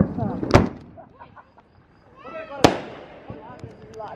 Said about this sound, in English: Grandma shooting off Roman candles